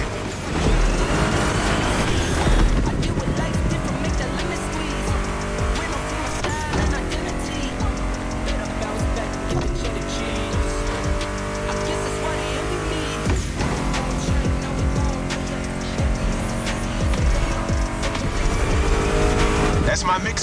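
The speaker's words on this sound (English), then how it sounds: "Meshes well with the sound of the engines" Muscle car engines roar continuously in a racing video game, loud and close, with revving and brief tire squeals, under a voice talking and music.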